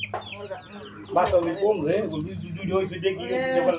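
Silkie chickens cluck nearby in a continuous, murmuring stream, partly under someone speaking over them.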